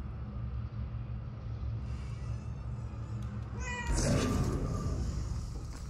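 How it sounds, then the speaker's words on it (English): Cat meowing in the video game Murdered: Soul Suspect, one or two short meows over a low rumbling background, moderately close, with no talking. "I'm a cat! And I can meow!"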